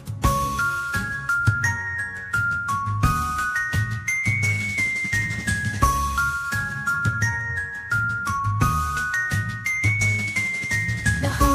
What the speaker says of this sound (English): The bell on the bus says, time to go